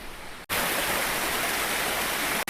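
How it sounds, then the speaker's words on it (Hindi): Steady rushing water of a mountain waterfall in light rain, a broad hiss of flowing water that fills the whole clip, briefly cut near the start and end. "पहाड़ों से कितना सुंदर झरना चल रहा है"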